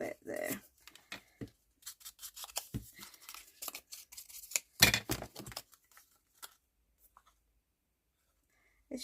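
Paper is torn in short, sharp rips while a journal card is made, quick bursts separated by pauses, with quiet talking and handling noises around them.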